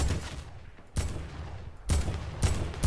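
Heavy AR gunfire in the video game Fortnite rattles in dense, continuous bursts, with three sharp, louder volleys standing out over the steady rapid fire.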